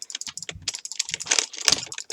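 Rapid, irregular clicking of a computer mouse during a PvP game fight, crisp close taps in quick bursts with no talking.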